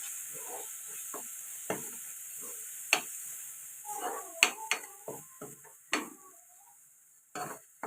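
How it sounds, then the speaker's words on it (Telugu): Spice masala of chilli powder, turmeric and coriander powder being stirred and fried in a pan for fish curry, with a steady faint sizzle under a series of sharp scraping and clinking strokes from a spoon against the pan, nearby and no talking. "ఒక నిమిషం పాటు ఇలా కలుపుతూ ఫ్రై చేసుకుందాం"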